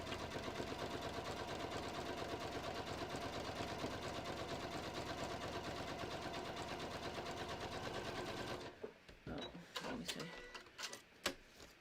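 A sewing machine runs a satin stitch on a handmade holiday card with a dense, fast, even mechanical whir that holds steady for about eight seconds. It then stops, and a few soft handling clicks and rustles follow, all quiet and close.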